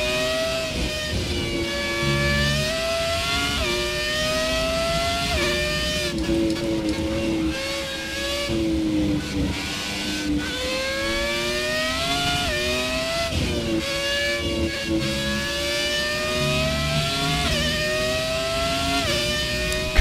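Historic Formula 1 cars in the racing game F1 2017, loud high-pitched engines screaming up through the gears in repeated rising sweeps with sharp shifts, alone without talk.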